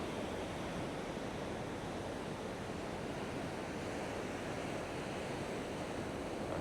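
Ocean surf rolling onto My An Beach in Da Nang, Vietnam: a steady, dense wash of breaking waves with a wind-blown roar, continuous and fairly loud throughout, no voices.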